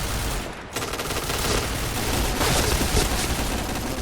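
Rapid K-2 rifle fire in the game Point Blank, a dense continuous rattle of shots at close range, with a brief pause near the start before the burst resumes.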